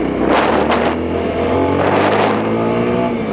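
A Honda XRE 300 motorcycle pulls away onto a highway, its engine revving loud and close as it accelerates through rising pitches with steady wind and road noise and no talking.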